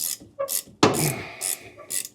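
Ratchet wrench loosening bolts on the subframe of a 1967 Camaro, heard as a few short bursts of clicking followed by one louder, longer ratcheting pull, close by with no talk.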